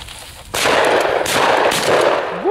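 Shotgun fire while pheasant hunting with a pointer in open fields, heard as a sudden loud blast with a long booming echo that rolls on for about two seconds, close and alone.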